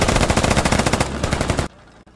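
Sustained rapid automatic gunfire in the military shooter game Squad, a dense loud burst of fast shots lasting under two seconds, then cutting off abruptly to near silence.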